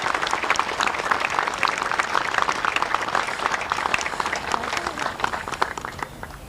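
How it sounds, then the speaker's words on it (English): Crowd applause at a college rivalry baseball game between Tennessee Wesleyan and Milligan University, dense sustained clapping from many hands that holds steady and then thins out toward the end. "Please join me in a round of applause for Wendy Goodfriend."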